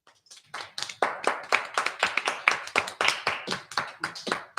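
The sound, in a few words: applause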